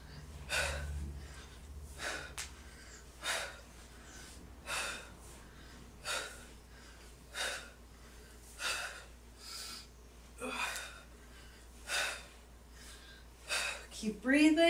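Heavy breathing during a home workout exercise, regular forceful exhalations roughly every one and a half seconds, close and fairly quiet, with a voice briefly at the end.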